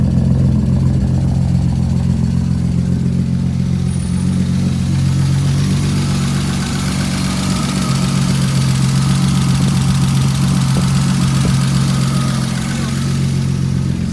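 A car engine running again after a long period of storage idles steadily and loudly close by, a strong low hum holding throughout with only slight shifts and no talking.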